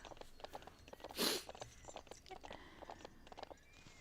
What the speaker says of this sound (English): the clip clops of the horse's hooves are really, really nice in this game